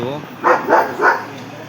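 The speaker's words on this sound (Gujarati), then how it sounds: "બહુ મસ્ત ડોગ છે" Three quick barks from a nearby dog in an even rhythm, loud and close.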